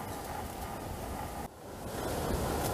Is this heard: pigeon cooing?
no